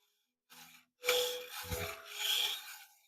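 Hand plane blade rubbed on an 800-grit sharpening stone in a workshop, a short scrape followed by longer steady rasping strokes, close and fairly loud, with no talking.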